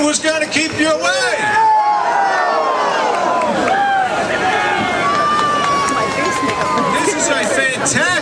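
A large outdoor rally crowd at a Ron Paul speech roars and cheers continuously, a loud dense mass of voices with shouts and whistles rising above it throughout.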